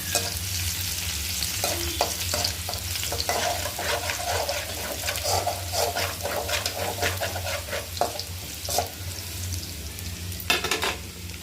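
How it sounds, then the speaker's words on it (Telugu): Thinly sliced garlic sizzles steadily in hot oil in a pan for gobi manchurian, with a constant crackling fry and occasional sharper spatters and stirring scrapes, close and moderately loud. "నూనె కాగిందంట 2 తెల్లగడ్డ పళ్ళు సన్నగా కోసి పెట్టుకుని ఉంటాను. బాగా వేగించండి."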